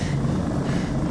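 A helicopter in the video game Far Cry 3 gives a steady low rotor and engine drone, loud and continuous, with no talking.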